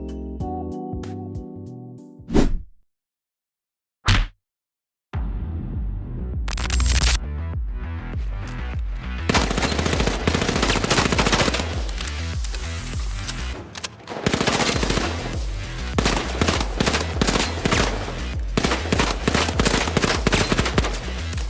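Rapid bursts of XP54 submachine gun fire in a first-person shooter game, loud and close, starting after a few isolated shots and brief silences, then sustained sputtering automatic fire with short pauses between strings.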